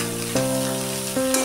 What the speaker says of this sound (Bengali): ঝিঙেটাকে একটুখানি ভেজে নিই